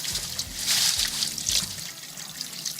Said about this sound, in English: we come over here to the sink, get some water running, run it through there, clean it out